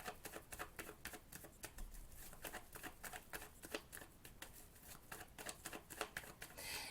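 Brand-new tarot deck being shuffled by hand, a quiet, rapid riffle of stiff cards with crisp repeated flicks and patters, close and faint, with no talking.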